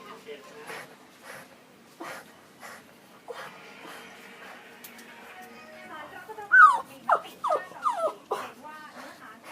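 A dog named Money whines and whimpers, eager to go out, with soft intermittent whines early on and then a run of louder, rising yelping whines near the end, while people talk quietly in the background.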